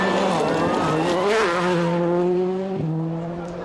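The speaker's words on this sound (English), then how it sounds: "Francois Deval's focus is a car best suited to these rough conditions" A Ford Focus WRC rally car drives a rough gravel stage at the 2003 Rally of Turkey. Its engine revs loudly through several gear changes, then the sound eases slightly as it pulls away.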